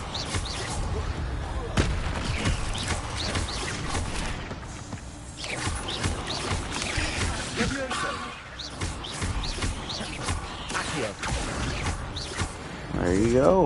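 Incendio fire spell cast in Hogwarts Legacy amid a fight with spiders, bursts of whooshing flame and booming impacts mixed with game effects, with someone talking over the action.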